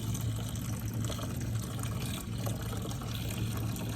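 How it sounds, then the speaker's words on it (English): Hot tea poured into a pitcher holding sugar, making a continuous soft splashing, trickling stream of liquid at low level, with a faint low hum underneath and no talking. "pour the hot tea into the pitcher that has the sugar in it"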